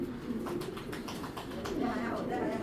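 Racing pigeon squabs cooing softly up close, with low burbling calls over a person talking.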